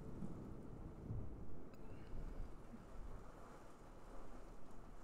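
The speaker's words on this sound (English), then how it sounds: "there's a lot of wind and hail." Heavy thunderstorm with wind, rain and hail, a steady dense roar of precipitation with low rumbling swells, continuous and close throughout with no voices.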